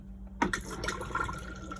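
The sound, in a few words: Auto-Trail Cheyenne motorhome cassette toilet flushing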